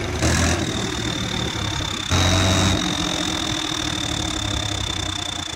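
A Ford 3630 tractor engine runs at a steady idle with a loud, close, continuous mechanical drone and a low throbbing knock, rising briefly at moments, with no talk.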